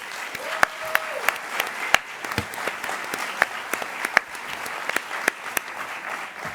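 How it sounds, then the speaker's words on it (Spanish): Cinema audience at a film preview and post-screening discussion claps steadily, with sharp individual claps standing out above a softer wash of applause at moderate volume. "recibamos también con un gran aplauso a María Luisa Gutiérrez."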